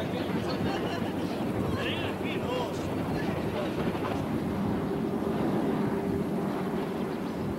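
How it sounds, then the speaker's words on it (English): A train backing up the switchback track on the side of Devil's Nose mountain gives a steady, continuous rumble of wheels and engine throughout, with voices of passengers faintly audible in the background. "The train backs around the mountain, then switches again to climb higher."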